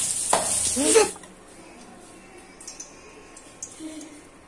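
Cardamom pods and bay leaves dropped into hot oil give a loud burst of sizzling for about a second, which then fades to a faint, steady crackle with occasional small ticks.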